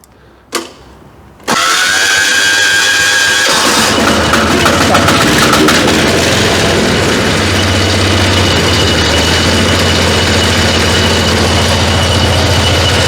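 A walk-behind tractor's small engine starts with a sharp clatter after the decompressor is released, then runs steadily and loudly up close, a rough continuous drone with a low throb underneath.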